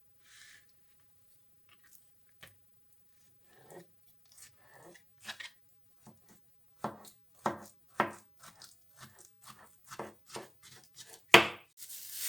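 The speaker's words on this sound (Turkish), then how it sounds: "Patlıcanlarımızı soyduktan sonra hemen küçük küçük doğrayalım." A knife chops peeled roasted eggplant on a cutting board, scattered taps building into a quicker run of firm, close knocks, with no talking.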